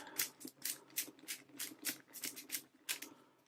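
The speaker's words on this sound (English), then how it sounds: "I'm going to do it to something random that I can't see. Give it a good shuffle." Someone spins the lettered dials of a Wordlock combination padlock, making a quick run of about a dozen sharp clicking bursts in an uneven rhythm, close and fairly quiet, with no one speaking.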